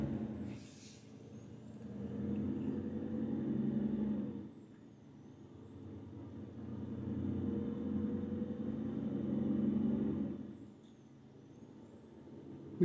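A heavy truck rolls through San Francisco city streets in American Truck Simulator, its low engine rumble swelling and easing in two long waves, with a brief hiss of air brakes near the start.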